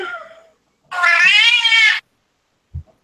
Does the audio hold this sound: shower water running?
no